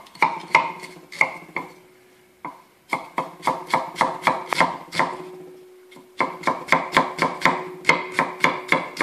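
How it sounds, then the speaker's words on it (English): A knife thinly slices an onion on a cutting board for a quick salsa, a fast run of sharp, even taps in bursts with brief pauses, crisp and close with no voices. "So I'm just going to slice this thinly."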